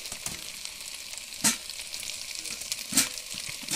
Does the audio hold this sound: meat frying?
yes